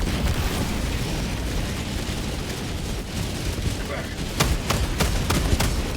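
Orbital strike explosions in Helldivers 2 during a bot mission, a thick continuous rumble of blasts with a quick run of sharp bursts near the end and voices over the din.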